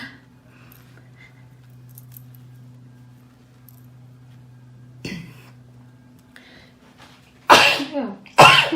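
Two loud, sharp sneezes burst out close by, one right after the other, following a long stretch of quiet low hum.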